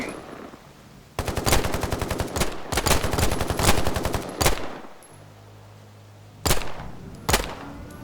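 Rapid automatic gunfire from the video game Phantom Line, set in Soviet-era Poland, with long sustained bursts followed by a pause and then a few sharp single shots, loud and close.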